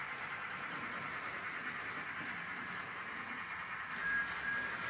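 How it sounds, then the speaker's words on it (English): A small Bachmann Thomas model train with analog sound runs steadily with a constant hissing, whirring rumble, and a brief high whistle tone sounds near the end. "here we're getting the whistle and you can see a train go past"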